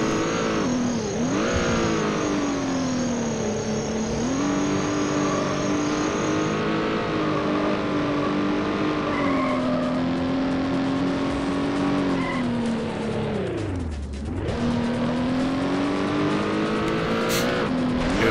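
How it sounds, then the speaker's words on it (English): In Need for Speed: High Stakes on PC, a race car roars at high revs while its tires squeal and skid through a long spin, with engine pitch dipping and surging, loud and continuous without talking. "That was the weirdest spin. Like, that was a reverse spin."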